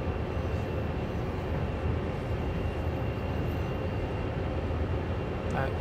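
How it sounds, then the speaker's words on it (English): A heavy CSX coal train in the Train Sim World game rumbles steadily and continuously at close range, with a broad low drone that stays even throughout and no voices. "So this is our coal train."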